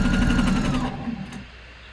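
A sewing machine runs a straight stitch with a loud, close motor hum that fades out after about a second, leaving quiet room tone.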